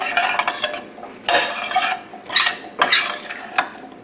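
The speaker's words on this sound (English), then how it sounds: "Now my spice. And let me mix that up a little." Spice stirred into a pork chop dish in a pan, with a utensil scraping and clinking in uneven strokes over a light sizzle, close and clear with no talking.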